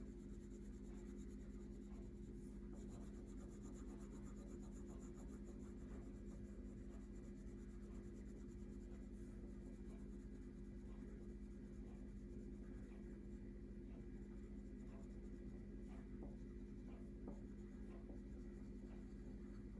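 A pen colouring in a drawn box gives a soft, continuous scratching and rubbing that stays quiet and even throughout, over a low steady hum.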